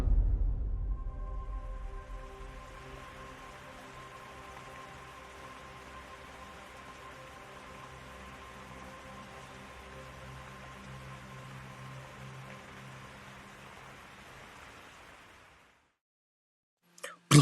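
A steady, even hiss of rain sound effect played for ASMR runs continuously for about fifteen seconds, fairly loud and unbroken, then cuts off abruptly into silence followed by a brief clatter at the end.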